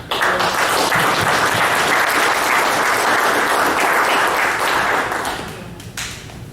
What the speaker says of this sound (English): Ian and especially Lynn deserve a big round of applause for that